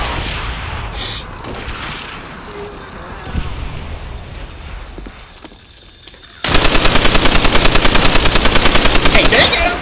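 Weapon fire in Call of Duty: World at War, with quieter game ambience and scattered shots at first, then a loud, rapid sustained burst of automatic gunfire filling the final seconds.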